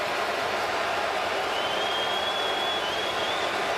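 A dense, steady roar from a CFL football stadium crowd at a Winnipeg Blue Bombers and Saskatchewan Roughriders game, a continuous wash of noise with a faint whistle-like tone rising partway through.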